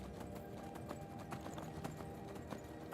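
Horse hooves clip-clopping while riding in the Skyrim video game, a fast, steady run of hoofbeats over low rumbling ambience, fairly quiet and without talk.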